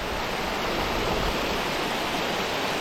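A flowing freshwater stream on the Appalachian Trail makes a steady, dense rushing hiss for a few seconds, close and even, with no voices.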